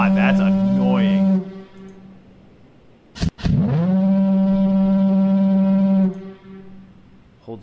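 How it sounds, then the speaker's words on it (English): Lighthouse foghorn in the video game The Lightkeeper, a loud, deep sustained horn blast, then a brief sharp break and a second long droning blast, with a voice talking over the start. "You should go turn off that foghorn."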